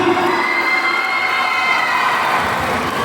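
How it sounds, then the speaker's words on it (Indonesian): Crowd at a class IX farewell ceremony at a junior high school in Indonesia, a loud steady wash of cheering and shouting that fills the whole stretch without pause. "Berikan tepuk tangan yang meriah"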